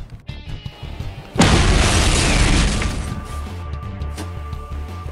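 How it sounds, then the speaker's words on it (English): A toy bomb explosion in a Plants vs Zombies plush play scene goes off as a single loud, close boom with a sharp attack, then a rumbling tail fades over a few seconds. "All right, I explode it right now."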